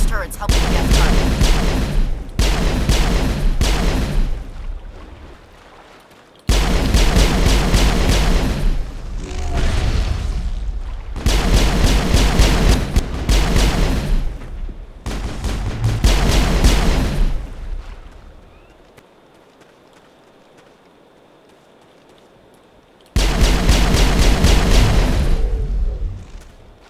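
Gunfire and turret crossfire in the Mass Effect 1 mission The Krogan Weapon: loud bursts of shots and booming blasts in several dense volleys, broken by a quieter lull before a final heavy barrage.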